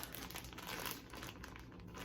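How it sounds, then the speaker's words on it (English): A 9x12 plastic resealable zipper bag is handled up close, giving continuous soft crinkling and rustling with no pauses, quiet but steady throughout. "They're both resealable zipper bags that you can open and close over and over again and are just really easy."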